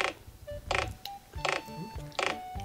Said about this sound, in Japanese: ミチバシリ。